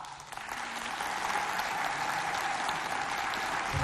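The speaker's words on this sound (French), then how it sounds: "sous vos applaudissements" An audience at a cultural diversity show applauds an arriving guest, a steady wash of many hands clapping at moderate distance, fairly quiet and unbroken for a few seconds.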